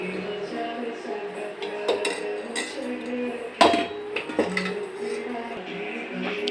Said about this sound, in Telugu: స్టవ్ ఆన్ చేసుకొని ప్యాన్ పెట్టుకొని ఆయిల్ వేసుకుంటున్నాను.